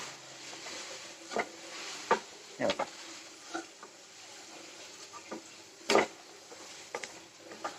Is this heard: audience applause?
no